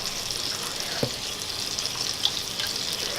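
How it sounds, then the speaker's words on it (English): Heavy whipping cream is poured into a pot with melted butter for homemade Alfredo sauce, making a steady, hissing liquid rush close by, like a running tap, with no talk. "I'm going to add 4 cups of heavy whipping cream."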